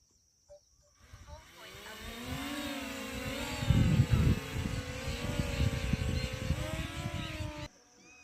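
A buzzing multi-rotor farm drone hum starts abruptly, rises and holds steady with shifting pitch, fairly close, then cuts off suddenly near the end.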